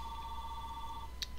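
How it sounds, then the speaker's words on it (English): A telephone rings faintly in the background of a quiet room, a steady electronic ringing tone holding for about a second, alone with no talking. "Phone's ringing."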